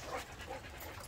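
A dog pants at a dog boarding facility, with quick, breathy, rhythmic huffs heard close up over about a second, with no talking.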